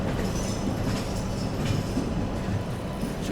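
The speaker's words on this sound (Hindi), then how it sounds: "चलिए यहाँ अपना अराइवल होता हुआ ग्वालियर जंक्शन पे अपनी राजधानी एक्सप्रेस का।" Rajdhani Express train, 22221 CR Rajdhani hauled by a WAP-4 electric locomotive, arriving at Gwalior Junction, heard as a steady dense rumble of rolling wheels and rattling carriages, loud and close, with no talking.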